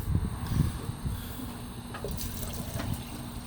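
Room-temperature water is poured into emptied tomato cans for a shrimp and crab seafood gumbo, a soft, close liquid trickle and fill that runs steadily for a few seconds with no talking.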